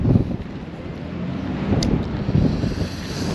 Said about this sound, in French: Ça tape fort le vent